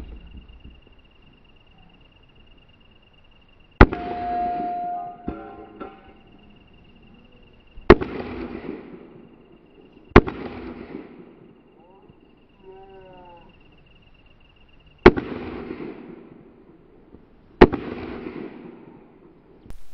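Five sharp, loud pistol shots crack at irregular intervals during a shooting match stage, each followed by a short decaying echo, with a faint steady tone and brief murmurs between them.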